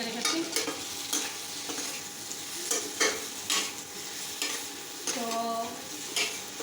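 Egg curry with fried eggs cooking and sizzling in a pan: a soft, steady hiss broken by repeated stirring scrapes and clinks at fairly regular intervals. A single brief spoken word is heard.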